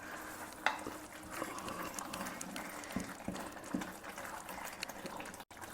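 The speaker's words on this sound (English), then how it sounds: "It is bubbling away very well." Sambar simmering in a pot on a home stove, a steady low bubbling and soft popping that runs throughout with no voices over it.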